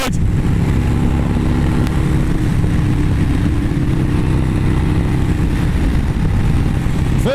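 A motorcycle engine drones steadily while riding at speed, a loud continuous roar with wind rush and no pauses or talking.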